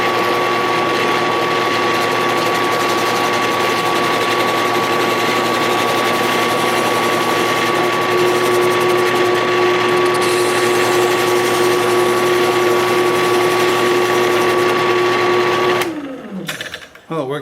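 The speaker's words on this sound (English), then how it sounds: "This is not the highest quality sanding drum, so there's a little vibration to it, but it works." A benchtop drill press spins a low-quality sanding drum at about 600 RPM, giving a loud, steady motor whine with a slight vibration rattle that holds for most of the clip before cutting off near the end.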